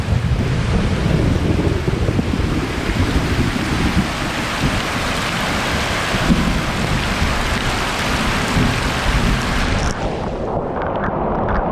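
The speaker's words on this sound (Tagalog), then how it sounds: "nasa ilalim ng ulan" Heavy rain pours down steadily in a dense, continuous hiss with a low rumble beneath, then thins out abruptly near the end.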